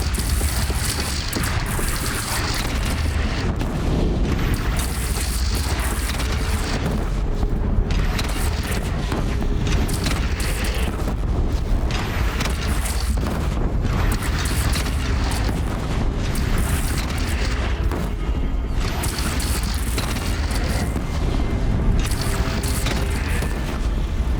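Cannon fire and explosions in Horizon Zero Dawn roll through a battle against a bandit clan: dense, continuous booms and blasts that stay loud and crowded for the whole stretch, with no clear speech.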